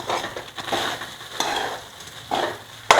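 A spoon stirs amla rice made with parboiled rice in a pan, giving soft scraping and shuffling sounds in several close bursts, with one sharper clink at the end.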